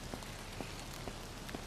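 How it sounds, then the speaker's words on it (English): Steady rain falling in the video game VEIN, a dense even patter with a few brighter drops ticking through, continuous and close around the listener. "Damn this rain."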